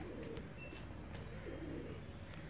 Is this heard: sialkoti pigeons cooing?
yes